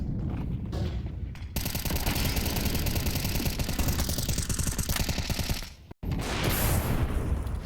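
Rapid automatic gunfire in Counter-Strike 2 during a FURIA versus paiN match, long dense bursts of shots with a brief gap, loud and continuous, voices absent.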